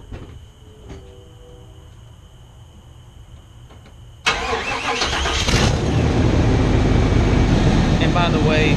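A car engine cranks and catches during a head gasket block test, a quiet idle-like hum giving way to a sudden loud, sustained running roar that stays close and steady.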